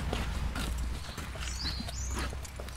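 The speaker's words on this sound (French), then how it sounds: "Eldorado, le quaterhorse de Claudie, était jeune et anxieux." Eldorado, a young, anxious quarter horse on a ranch in western Poitou, walks with steady clip-clopping hooves at close range over outdoor noise, with no talk.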